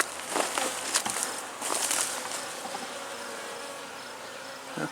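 A swarm of bees buzzes around close by, a dense humming drone with individual insects whizzing past loudly near the start, then settling into a steady hum.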